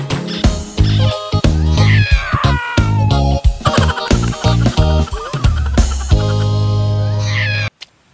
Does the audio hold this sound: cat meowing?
yes